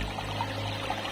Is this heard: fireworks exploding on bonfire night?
no